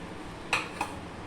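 A spoon clinks twice against a bowl while a thick spice batter thinned with a little water is mixed, two short taps close together over a quiet background with no talk.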